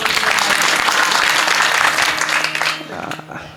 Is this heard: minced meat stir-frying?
no